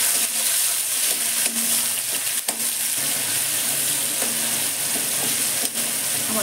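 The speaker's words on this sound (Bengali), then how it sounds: "আমার টমেটো ভাজা হয়ে গেছে।" Tomato frying with asafoetida in a pan, a close, steady sizzle punctuated by occasional scraping and stirring clicks, with no speech over it.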